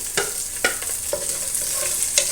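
Shallots fry and get stirred in a pan for a drumstick and dried prawn curry, with a steady bright sizzle broken by several close scraping strokes of a spoon at irregular intervals.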